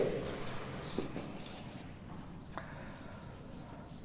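A pen scratches steadily across paper while working through a maths exam question, a soft, close continuous scribble with small pauses and no talk over it.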